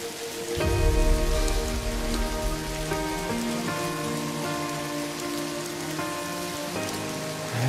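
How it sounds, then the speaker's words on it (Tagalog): Steady, heavy rain falling and drumming on a surface nearby, continuous and loud with no pauses, while a soft musical tone sits underneath. "Hindi pa rin tumitigil yung ulan."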